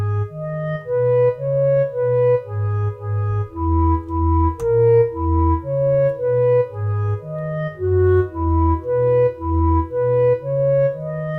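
Melody transcribed from the score painted in a Bosch painting, played on a soft, organ-like keyboard tone: a steady series of sustained notes in a moderate, even rhythm with a low accompanying line, clear and alone with no talking.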